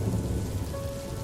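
Steady rain pours alongside a low rolling rumble of thunder, a dense continuous wash with no voices.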